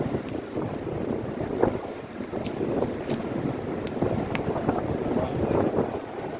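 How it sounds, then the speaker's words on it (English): Strong wind buffets the microphone in a continuous roar on a Florida beach while bicycling, with surf murmuring underneath and a few faint clicks from the bike; no voices. "Wind is making it hard to bicycle."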